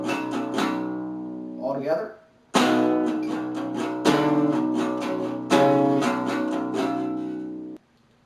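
Electric guitar playing a riff with palm-muted down-up strumming, dense chugging chords in steady bursts, loud and close, with a brief spoken voice over it.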